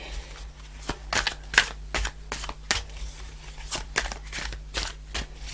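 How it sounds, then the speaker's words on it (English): Cards from a Fairy Tarot deck are shuffled and pulled in a tarot reading, a series of soft close riffling and flicking bursts in an irregular rhythm, quiet and without talk. "just going to pull an overarching tarot card to begin the reading to see what the message is for you"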